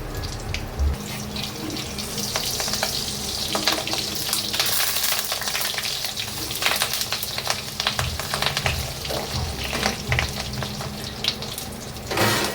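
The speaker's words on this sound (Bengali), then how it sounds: "বড়াগুলো ভাজা হয়ে গেছে," Fish roe fritters frying in oil crackle and hiss steadily up close, with irregular bubbling bursts and occasional clatter of a spoon; no one speaks.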